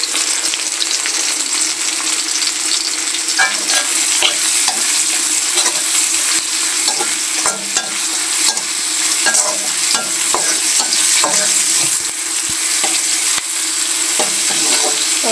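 Vegetables and chili fry with turmeric in a hot pan, giving a steady loud sizzle with frequent stirring scrapes and clicks throughout, and no voices.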